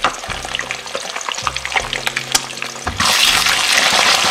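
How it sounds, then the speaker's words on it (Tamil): Beaten eggs fry in oil in a pan, a bright crackling sizzle broken by repeated scraping stirs, with the frying growing louder and denser toward the end. "இதை வந்து இந்த எண்ணெயில் நாங்கள் நல்ல வடிவாக முறுகி பொரிய விடாமல் இப்படி சின்ன சின்ன துண்டுகளாக வர்ற மாதிரி ஒரு அரை அவியலோடு பொறிஞ்சு வந்த மாதிரி வதக்கெடுப்போம்"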